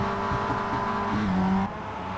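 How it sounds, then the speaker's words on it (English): Mazda Miata race cars in the iRacing sim at Circuit Gilles Villeneuve, gathered for an Advanced Mazda Cup start, rev their engines in a steady droning chorus that climbs slightly before cutting off near the end, with no speech. "You can hear those little Miatas start to rev."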